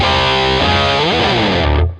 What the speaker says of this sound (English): The overdrive distortion is some pre-chorusy sound.